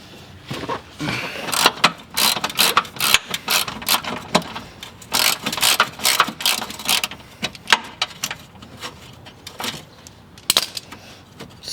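A hand ratchet works bolts loose on the front bumper of a 2004 Dodge Ram 2500, giving bursts of rapid clicking in irregular runs with short gaps, close and fairly loud.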